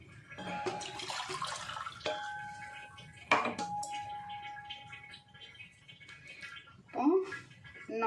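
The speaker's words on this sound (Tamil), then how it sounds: "ரெண்டு கப்பு தண்ணி ஊற்றிடலாம்" Cups of water poured into a pot while cooking rice-flour roti with fish curry, heard as short splashing pours and a clink of the vessel, with a voice speaking over them.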